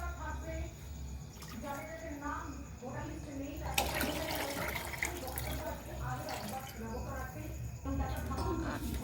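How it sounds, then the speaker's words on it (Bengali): Hot water is poured into a simmering pea and potato curry, a splashing pour that swells midway and gurgles on under a person talking nearby. "গরম জল দিচ্ছে দেখো"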